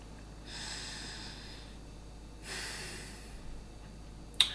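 Slow meditative breathing, two long airy breaths about two seconds apart, close and soft, followed by a brief faint click.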